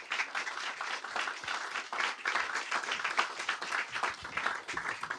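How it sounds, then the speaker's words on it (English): A bookstore audience at a politics book talk gives steady, dense applause for the guests, a continuous patter of many hands clapping at moderate volume with no speech over it. "Let's give our guests a round of applause."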